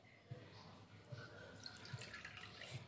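Water is poured from a bowl into sugar to make syrup for malpua, giving a soft, close trickling and splashing with a few brief drips, quiet and indoors.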